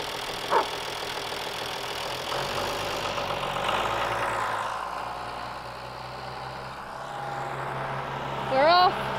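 Vehicle engine idling and pulling steadily while reversing a trailer, a low continuous rumble that swells and eases, with a voice heard briefly and a short squeal near the end.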